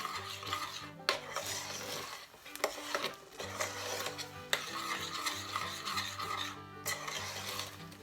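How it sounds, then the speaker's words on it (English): A spoon stirs almond milk into rice pudding in a pot, a continuous close rubbing and scraping with short pauses over faint steady background tones. "now we're going to add some more almond milk. Stir that around."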